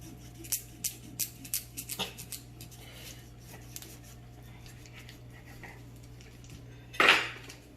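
A butter knife taps and clicks against a plate or dish in a quick run of light strikes early on, then quieter scraping through a low hum, ending with one louder clattering scrape nearby.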